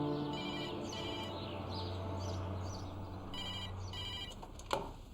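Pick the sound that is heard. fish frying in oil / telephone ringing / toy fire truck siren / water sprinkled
telephone ringing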